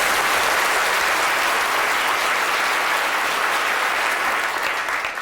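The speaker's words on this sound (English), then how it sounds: "A big round of applause," A lecture-hall audience at a Royal Institution Christmas Lecture breaks into loud, dense, continuous applause that holds steady and only begins to thin at the very end.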